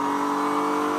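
Onboard sound of a GT race car's engine at Sonoma Raceway during a GT World Challenge America race, a loud, steady high-revving drone held at constant pitch throughout the second.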